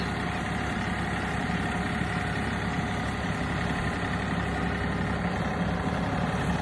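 A tractor engine idles steadily nearby, a constant low, chugging drone with no change in pace throughout.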